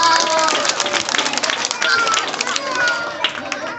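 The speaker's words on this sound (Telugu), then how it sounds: "చప్పట్లు కొట్టండి" Children applauding at a Christmas magic show, a dense burst of clapping from a crowd, loud and close, with voices mixed in.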